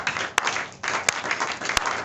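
Church congregation applauding in praise, a dense steady wash of many hands clapping with a few sharp louder claps standing out, no voices.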